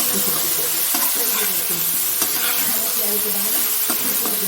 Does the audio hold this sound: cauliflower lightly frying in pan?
yes